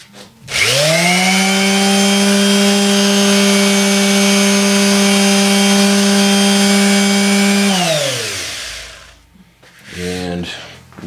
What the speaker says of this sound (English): So what I did was actually put it right underneath my palm sander,